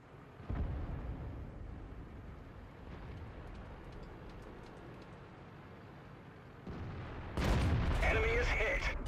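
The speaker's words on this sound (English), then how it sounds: "So we slam another shot there into the IS-2." Heavy tank cannon fire in World of Tanks from an FV4101 Charioteer hitting an IS-2, a loud booming blast with rumbling gunfire and battle noise throughout, swelling into a sharper, louder burst near the end.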